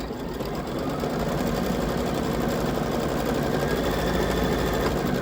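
A computerized embroidery machine runs steadily while sewing a placement stitch, a continuous close mechanical whir with a fast rhythmic needle chatter that holds an even level throughout.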